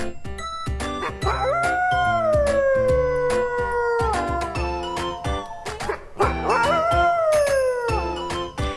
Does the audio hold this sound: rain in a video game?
no